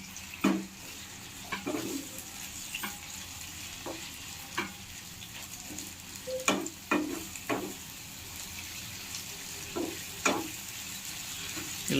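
Tomatoes fry in a pan for a Rayalaseema-style chicken curry, with a steady sizzle broken by intermittent spoon stirs and scrapes and a pigeon cooing faintly in the background.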